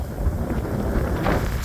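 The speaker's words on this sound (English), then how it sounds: "As you can probably hear, it's quite windy." Strong wind of about 20 miles an hour at a fishing lake, a steady loud roar and microphone buffeting with low rumble and no voices heard.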